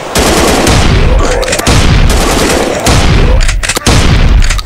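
Gunfire in the video game The Last One, loud rapid automatic bursts separated by short gaps, close and dominant.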